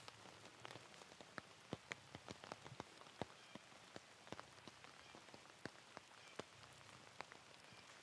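Steady rain falls across a wooded disc golf course during a tournament round, with scattered sharp drops pattering close by over a constant hiss, and no voices.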